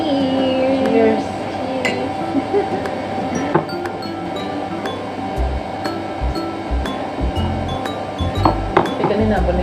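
Glasses clink in a toast over a meal of vegetable soup and meat, bright short chinks scattered among lively talk and table clatter at close range.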